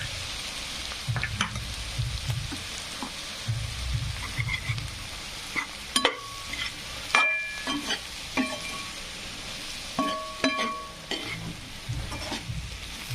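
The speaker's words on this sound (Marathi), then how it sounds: "छान अशी आपली भाजी फ्राय झालेली आहे" Cluster bean vegetable fries with peanut powder in a pan: a continuous sizzle broken by repeated scraping and clinking spatula strokes, loud and close, with no talk.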